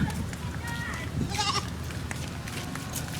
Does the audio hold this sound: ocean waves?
no